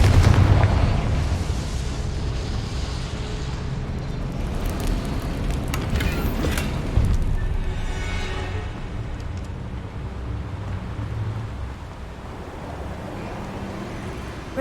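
Confringo blasting spell explosions in Hogwarts Legacy, booming blasts and rumbling impacts over a dense, continuous roar of game ambience, with a sharp burst near the middle fading into a steady wash.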